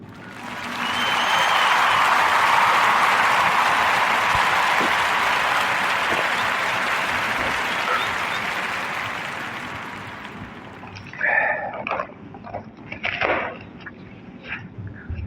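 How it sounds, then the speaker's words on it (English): A podcast audience gives a warm round of applause, a thick sustained clapping that swells, holds, then thins out, leaving a few scattered claps and brief voices at the end. "please join me in giving a warm Narrative Podcast round of applause to Grace Moore"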